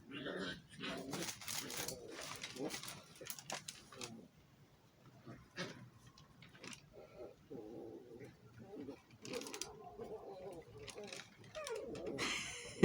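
Two dogs playing indoors, making yappy barks and whines in the background, intermittent and fairly faint, while a person talks over them throughout.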